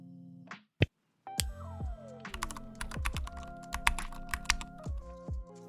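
Someone types on a computer keyboard while entering text into an online store page builder. Quick, close, crisp clicks come in an irregular flurry after a short pause, heard without talk.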